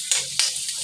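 Vegetables with onion and garlic sizzling in a hot pan as they are stirred, two sharp hissing bursts from the spatula, then a softer continuous fry, close and clear with no talk.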